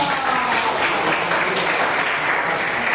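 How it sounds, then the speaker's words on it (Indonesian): Students clapping together in a classroom: a steady, dense burst of applause, close and fairly loud, holding evenly for a few seconds with no talking over it. "Tepuk tangan dulu dong"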